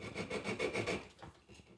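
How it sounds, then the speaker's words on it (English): Sandpaper rubbing back and forth across ABS plastic pipe during a DIY air tank build, a close, steady rasping scrape in repeated strokes that fades toward the end. "I think I'll sand that off so I can get a good start"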